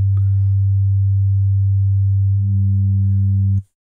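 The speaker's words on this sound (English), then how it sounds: "if we use a one-to-one pair and a subtle bit of modulation, we can create something that's just got a few sidebands in it" A steady FM synthesis tone from a one-to-one operator pair with subtle modulation and few sidebands, a pure, loud, sustained low hum whose timbre thickens slightly near the end before cutting off abruptly.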